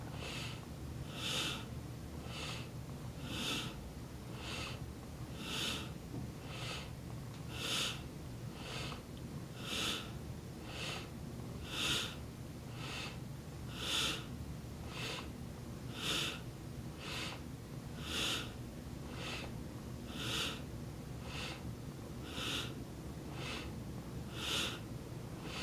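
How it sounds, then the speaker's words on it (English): Strong, vigorous breathing during a spinal flex exercise, with sharp rhythmic sniffing breaths repeating steadily about every second, close and fairly loud over a faint background. "really allow the breath to be strong and vigorous as long as your lower abdomen allows"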